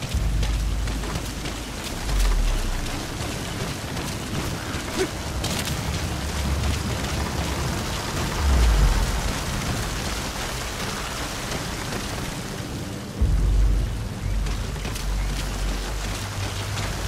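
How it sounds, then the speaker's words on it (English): Steady rainfall in the Metal Gear Solid V game, a dense continuous hiss of drops on surfaces with occasional low rumbles, loud and enveloping, no voices. "The sound of rainfall should help to mask your footsteps."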